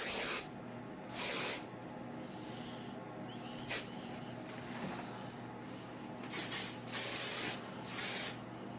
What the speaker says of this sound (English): Okay, now take your finishing spray.